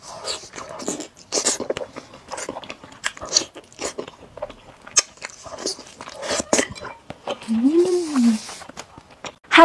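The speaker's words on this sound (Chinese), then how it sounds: "我们今天吃关东煮，还有一个大鸡腿。" Someone eats oden and a big chicken leg up close, producing crisp bites, crunches and wet chewing in irregular bursts, with brief soft vocal sounds between mouthfuls.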